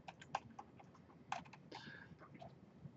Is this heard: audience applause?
no